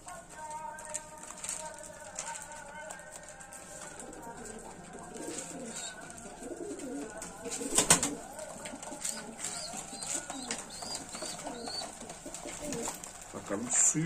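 Pigeons coo repeatedly close by, soft throaty calls recurring through the stretch, with other bird calls, a few sharp taps and occasional background talk.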